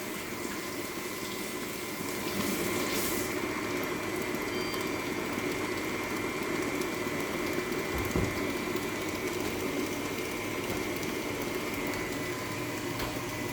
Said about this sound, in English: So I'm going to wash my hands quickly